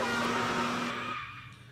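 Cartoonish car engine from the video game Super Mario 3D World, a loud steady hum with tonal drone lasting over a second, then thinning and fading out near the end.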